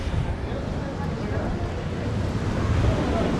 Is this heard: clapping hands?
no